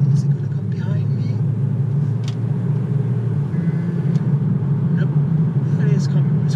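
Steady low engine rumble of a Mercedes C63 approaching slowly in traffic, heard from inside another car, loud and continuous throughout.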